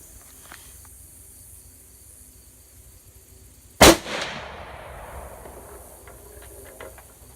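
Single sharp crack of a Ruger Precision Rifle fired at a target, loud and close, followed by a fading reverberant tail over quiet outdoor ambience.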